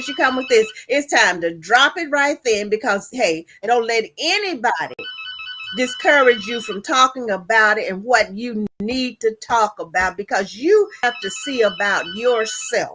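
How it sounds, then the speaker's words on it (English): A mobile phone ringtone chimes in short repeated bursts during a talk show, heard faintly under a woman's continuous speech. "that's my phone"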